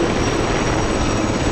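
A military helicopter of the 3rd RHC descends fast during a centenary air show demonstration at Verdun. Its loud rotor and engine roar stays steady and dense throughout, with no talk.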